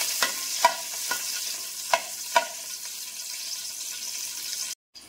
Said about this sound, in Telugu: ఇది కొద్దిగా వేయించాలి.